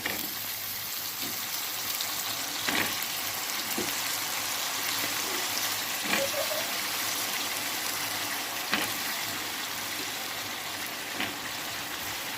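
Onions and brinjal fry in a pan, a continuous moderate sizzle with a few faint clinks and pops scattered through.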